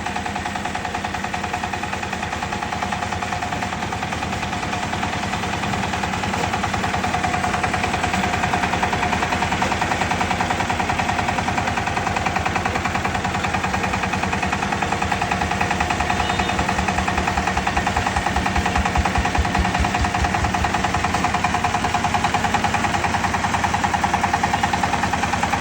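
A Dongfeng power tiller engine runs steadily and loudly throughout, a dense, continuous rattling chug with no pauses.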